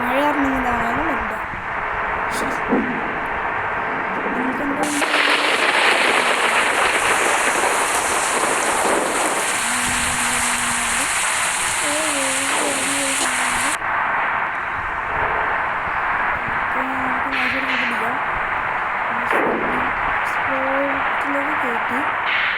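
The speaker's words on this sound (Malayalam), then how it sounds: "മഴയാണ്" Rain falls steadily during a bus drive, a continuous hiss over the rumbling vehicle, with intermittent horn-like tones and occasional voices in the background.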